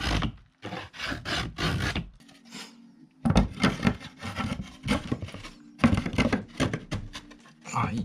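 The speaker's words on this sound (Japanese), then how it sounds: "このカンナでね、適当に整えます。" A Japanese hand plane (kanna) shaves a wooden post to fit under a tight rail, giving repeated close rasping strokes in quick rhythmic bursts, with a pause between runs and a faint low hum.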